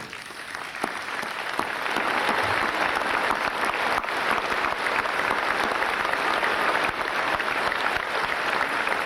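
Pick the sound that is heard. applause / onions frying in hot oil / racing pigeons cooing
applause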